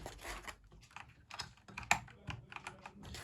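Fast typing on a self-built mechanical keyboard with optical switches, a quiet, irregular stream of soft key clicks and taps heard close up with no talking.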